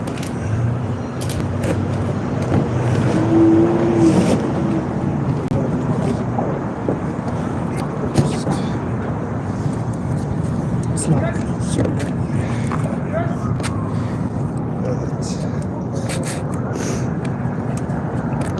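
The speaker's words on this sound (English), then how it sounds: "It's not super windy, but" Wind buffets the microphone in a low, continuous rumble while people talk nearby, with occasional clunks and knocks outdoors.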